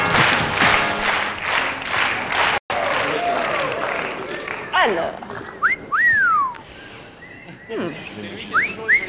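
Sharp rising and falling whistles ring out over a busy, noisy restaurant with clapping and chatter, several whistles in quick succession.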